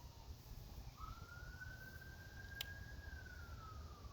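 A single emergency siren wails outside, its tone sliding up, holding a steady high pitch, then slowly dropping away over low background rumble.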